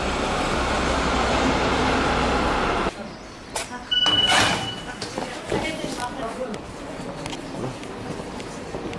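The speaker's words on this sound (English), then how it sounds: "Oh look, it's a freight train." A freight train passes nearby at a European rail stop, producing a loud continuous rumble and roar that cuts off abruptly partway through, followed by lighter clanks and rattles with people talking.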